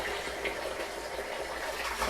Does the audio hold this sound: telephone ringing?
no